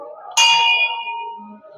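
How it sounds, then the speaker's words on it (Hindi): A single strike on a Hindu temple bell at a Rajasthan shrine to Karni Mata gives a bright, close clang. It rings out and fades slowly over about a second and a half, with faint background murmur. "और हम घंटी बजा देते हैं।"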